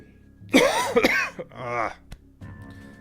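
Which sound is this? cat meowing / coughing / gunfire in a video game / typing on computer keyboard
coughing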